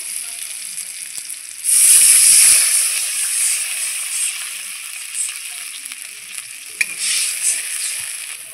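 Water hits hot oil holding fried green chillies and bursts into a loud, bright hiss, which then settles into a softer steady sizzle with a few faint pops, close by and with no voices.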